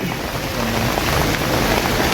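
Heavy rain falls during an outdoor protest rally in Waghai, a dense, steady hiss of rainfall that fills the scene without pause.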